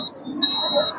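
A laser-and-LDR intruder alarm at a school science exhibition buzzes in one short, shrill, steady burst of about half a second, loud and close, with voices around it.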